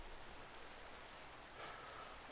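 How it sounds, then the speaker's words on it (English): Steady rain falling in the video game Minecraft, a continuous soft hiss of drops that stays even and faint throughout with no other sounds standing out. "at the very least we can get rid of all of this awful rain"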